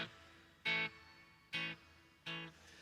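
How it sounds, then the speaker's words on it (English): Guitar played through a Line 6 Helix amp patch with a light reverb: three separate strummed chords, each ringing briefly and then fading into a short, gentle tail, played alone. "Now you got a little lighter reverb"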